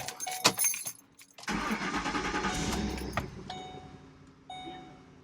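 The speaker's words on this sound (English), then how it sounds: "Turning on the car for Draco real quick." A car engine being started: a jangle of keys and clicks, then the starter cranks and the motor catches into a steady idle nearby, with no one talking.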